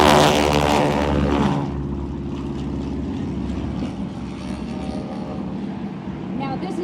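T-6 propeller warbirds roar past in a formation takeoff at an air show. A loud close engine blast in the opening seconds gives way to a steadier, rumbling drone under a voice talking.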